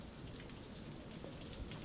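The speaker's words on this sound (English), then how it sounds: "You don't know how long the rain will fall." Steady rain falling on a surface, a soft dense patter of drops with no gaps, faint and even throughout.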